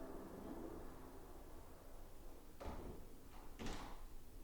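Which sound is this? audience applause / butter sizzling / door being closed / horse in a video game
door being closed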